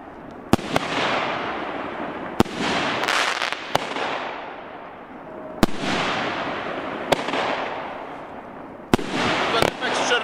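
Two-inch firework launcher cake shooting in sequence, with sharp launch thumps every second or two, each followed by crackling, hissing bursts that decay slowly, loud and outdoors with a voice briefly audible.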